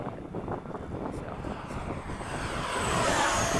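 An 80mm Freewing F-4 electric ducted-fan model jet pulls up at the end of the runway, its steady whooshing roar swelling louder and rising toward the end, with wind buffeting the microphone.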